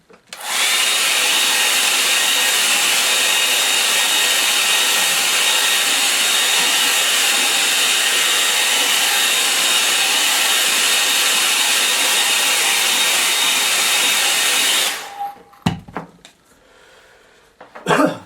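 A hair dryer blows steadily and loudly on a painting for about fifteen seconds, a constant broadband whoosh, then cuts off and a few handling clunks follow.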